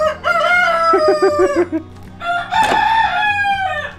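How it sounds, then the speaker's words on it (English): Two black leghorn roosters crow loudly one after another, each call rising and stretching out, close by, with no talking. "All these roosters crowing."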